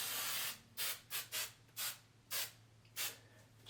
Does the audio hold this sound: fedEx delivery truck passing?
no